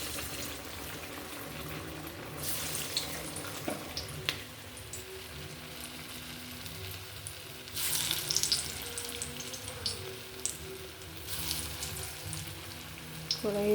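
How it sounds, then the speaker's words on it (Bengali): Banana kofta balls sizzling in hot oil in a wok, a soft continuous crackle and hiss with sharper bursts as more pieces drop in, fairly quiet and close. "কড়াইয়ের তেল গরম হয়ে গিয়েছে, এখন একটা একটা করে কড়াইয়ে ছেড়ে দিব।"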